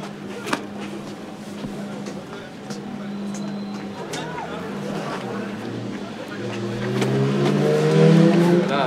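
A racing motorcycle accelerates, its engine tone climbing and building in loudness toward the end, with a strained, rising drone and no one speaking over it.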